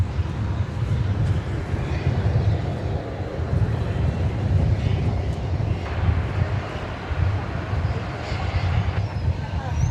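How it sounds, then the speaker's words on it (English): A Boeing 737-800 airliner at DFW Airport, a steady broad jet engine roar holding at a constant distance for the whole stretch with low rumble and wind noise, no voices. "You're looking at flight 1053, 737-800 off to San Jose, California."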